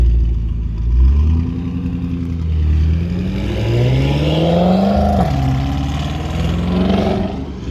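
A BMW M5 F10 with 92k km, misfiring and smoking oil, runs roughly up close. Its engine note wavers and stumbles as the revs rise and fall unevenly, with no voices.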